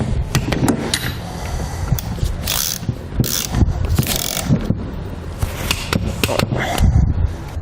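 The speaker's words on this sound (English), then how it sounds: "For the bolts on top of the airbag, the ones I'm doing now, you're going to use a 9/16 socket." A socket wrench fitted with a 9/16 socket ratchets bolts on top of an Air Lift LoadLifter air helper spring airbag on a 2015 Ford F-250. Rapid, close, continuous metallic clicking and clattering runs throughout, with no talking.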